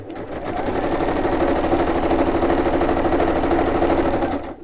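A sewing machine runs steadily while stitching across fabric, a fast, even mechanical chatter heard up close and alone for about four seconds before stopping.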